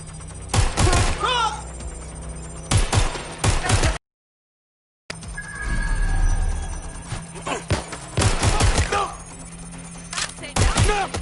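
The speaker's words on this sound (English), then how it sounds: "We have gunfire!" Bursts of gunfire in the video game Watch Dogs: Legion, sharp loud volleys in several clusters separated by a brief silent gap, with game dialogue and effects around them.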